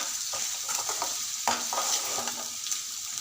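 Liver frying in oil in a pan, a steady close hiss of sizzling broken by a few scraping stirs, moderately loud with no voices.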